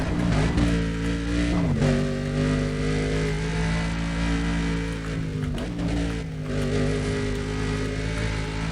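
Car engine roaring in the racing game Need for Speed: Undercover, a loud continuous high whine that rises and dips with shifts and throttle changes throughout, with no speech.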